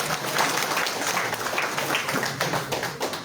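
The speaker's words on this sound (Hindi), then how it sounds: "प्रथम ध्वनि से तालियां बजाई जाए।" An audience at a one-day program on climate-resilient goat farming and management breaks into lively applause, a continuous patter of many hands clapping at moderate volume.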